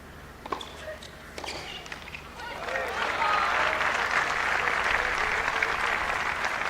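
Tennis crowd at a WTA 125 tournament in Mumbai breaks into applause after a point, swelling from scattered claps into steady, sustained clapping that fills the second half.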